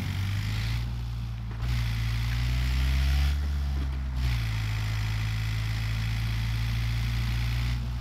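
Motorcycle engine in the video game PUBG, a continuous low droning rumble with a slight rise in revs partway through, steady and fairly loud against broadband noise, with no talk.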